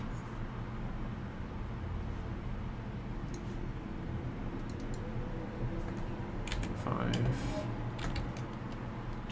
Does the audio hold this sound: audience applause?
no